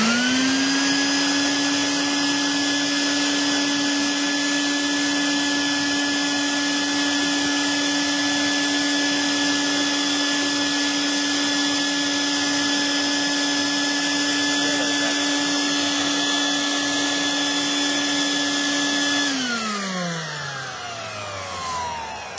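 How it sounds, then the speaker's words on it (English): A shop vac runs close by, vacuuming around the fuel pump area of a Nissan Maxima, a steady droning whine held for about twenty seconds before it winds down as the motor shuts off. "you're going to want to vacuum around this area here."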